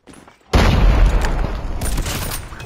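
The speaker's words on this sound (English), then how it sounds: "Predator missile on." A Predator missile strikes in a Call of Duty-style multiplayer match, a sudden loud blast about half a second in followed by a sustained roaring rumble and debris, with gunfire crackling underneath.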